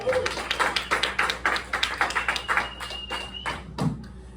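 A comedy club audience at Riverside claps for a comedian in a burst of rhythmic applause with scattered voices, dense at first and thinning out toward the end.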